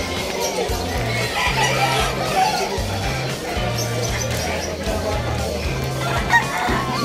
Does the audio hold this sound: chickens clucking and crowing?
yes